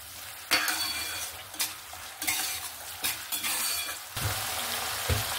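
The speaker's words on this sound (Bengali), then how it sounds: "বাড়িয়ে আমি এখানে 1 থেকে 2 মিনিটের মতন কষিয়ে নেব, যতক্ষণ না তেলটা মশলা থেকে ছেড়ে দেয়।" Yogurt spice masala for a black pomfret curry sautés over a high flame, with a continuous sizzle broken by repeated bursts of spatula stirring and scraping against the pan.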